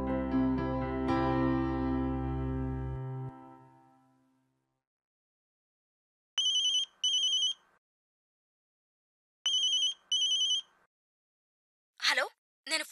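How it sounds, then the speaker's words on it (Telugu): A telephone rings with repeated incoming calls, two separate bursts of a buzzy double ring separated by silence, following a fading sustained musical tone at the start. "ప్రియా పదే పదే సాగర్ నాకు ఫోన్ చేసి విసిగిస్తున్నాడు."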